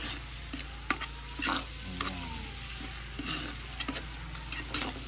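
Garlic and onions sauté in a pan for a noodle soup cooked for a feeding program. A steady sizzle runs throughout, broken by scraping stirs and a few clinks of a utensil against the pot, with no one talking.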